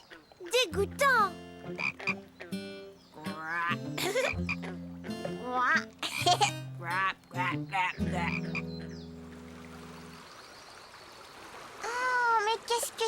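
Frogs croaking near a stream, a series of loud, close, deep rhythmic croaks in bursts, then a quieter trickling stretch before a few more calls, with voices mixed in.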